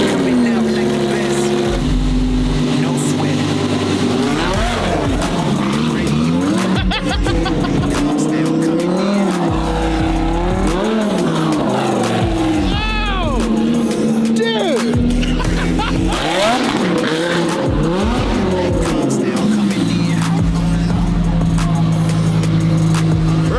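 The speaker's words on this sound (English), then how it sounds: "Cold start? Cold start." A Lamborghini engine cold-starts with a loud, rough roar, then repeated revs rising and falling over about twenty seconds, close by and dominating the scene.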